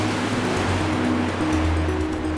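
A magical water current in a cartoon castle setting rushes steadily as a broad, continuous wash of surf-like noise, with a low tonal music bed humming underneath throughout.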